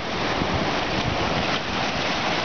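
Storm surge waves from Hurricane Irene pushing water up a canal at a beach club, a steady rushing wash of water mixed with heavy wind noise, close and continuous.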